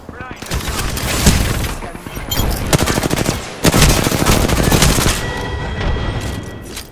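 Automatic gunfire from an Apex Legends match, dense rapid bursts of shots filling the scene, loud and close, with a sharp crack around the middle and a player's voice talking over the firing.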